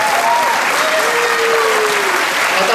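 An audience at a Tulsi Vivah wedding-style program applauds the girls after a music performance, a loud, sustained burst of many hands clapping together, close and dense for the whole stretch.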